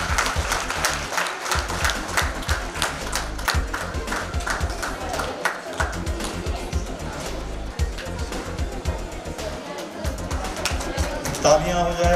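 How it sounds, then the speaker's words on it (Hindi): An audience at a school chess championship prize ceremony claps for a girl winner, a sustained patter of many hands with sharp individual claps standing out over a room-filling rustle. "तालियां हो जाए केशवी के लिए।"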